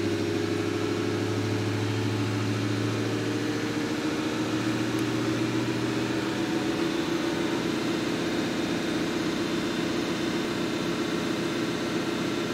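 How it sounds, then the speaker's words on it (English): Steady low drone of a car engine running on a drive to heat the exhaust during a diesel particulate filter regen, constant and moderately loud with a shifting low hum and no talk. "Gotta take it for a drive to warm it up."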